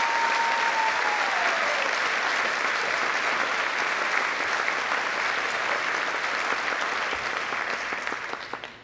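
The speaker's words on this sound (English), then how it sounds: "How about a welcoming round of applause for all the new folks who have made this happen?" A large audience at a 2017 school convocation gives a sustained round of applause, dense and loud throughout, briefly overlapping a fading voice at the start and tapering off at the end.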